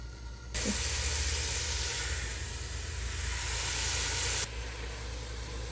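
Oil sizzles and hisses steadily in a hot pan with chopped onions for chicken curry, a continuous bright crackle that starts abruptly and then cuts back to a quieter background.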